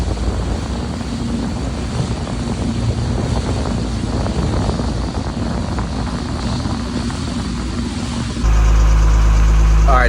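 A vintage trawler's engine runs with a steady, throbbing low rumble mixed with wind buffeting the microphone; a louder mechanical hum cuts in near the end.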